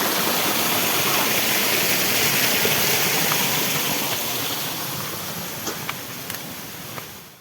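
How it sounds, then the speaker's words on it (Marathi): Water pouring steadily like a small waterfall in a forest, a continuous broadband rush that stays loud and close before easing slightly toward the end, with a few faint clicks on top. "हे बघा पाणी कसं पडतंय याच्यामध्ये बघा एकदम सुंदर रित्याने पाणी पडतं आहे"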